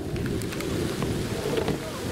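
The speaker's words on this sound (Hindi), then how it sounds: "It's raining there." Steady rain pours down at an outdoor cricket ground during a T20 match, a dense, continuous hiss with a low rumble beneath it, loud and unbroken throughout.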